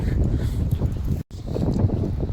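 Strong wind outdoors on a cloudy day, buffeting the microphone in loud gusty rumbles and rustles, broken by a brief dropout midway.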